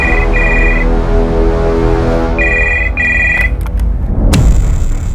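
A telephone rings with repeated bursts of an electronic ringtone in short double pulses, loud and close, with a brief clunk near the end.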